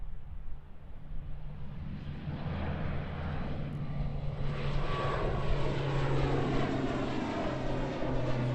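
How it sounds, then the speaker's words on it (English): An ATR 72-600 turboprop airliner departs Christchurch Airport, its propeller and engine roar building from a moderate rumble to a loud, sustained drone heard from a distance outdoors. "the ATR 72-600 departure off to Napier"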